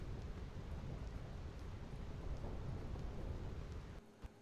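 A lightning strike in the video game Final Fantasy X brings a sustained rolling rumble of thunder over dense rain hiss, loud and continuous before cutting off abruptly near the end.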